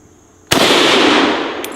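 An SKS rifle fires at steel plate targets outdoors, one sharp loud crack followed by a long ringing decay, then a faint second metallic ping as a round strikes the plate.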